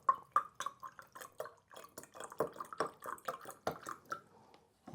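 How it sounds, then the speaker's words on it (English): Liquid, likely acid used in testing calcite, spills and splashes out in a quick, uneven run of small close drips and splats, fairly faint, with no talking. "I've spilled it. It's splashed out"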